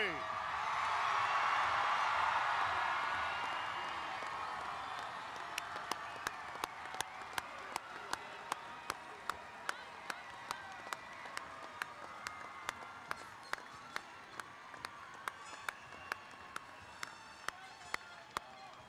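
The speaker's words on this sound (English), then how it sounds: "How about another round of applause for our graduates?" Family and friends at the Lakewood Ranch High School class of 2023 graduation burst into a big round of applause and cheering that peaks early, then thins out into scattered distinct claps and whoops as it slowly fades.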